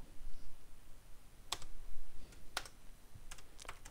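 Typing on a computer keyboard while entering a tablespace setting in pgAdmin 4 for PostgreSQL 16, with sparse clicky keystrokes in small bursts over a steady low hum, close and fairly faint, no speech.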